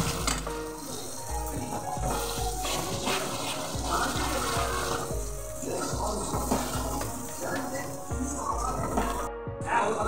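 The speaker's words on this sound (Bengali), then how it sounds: "জল দিয়ে দিলাম।" Water splashes into a hot frying pan over sautéed onion, garlic and spice paste while cooking fish curry, with sizzling, stirring and clattering utensils and a voice talking over the kitchen noise.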